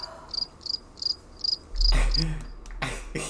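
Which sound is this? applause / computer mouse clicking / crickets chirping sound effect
crickets chirping sound effect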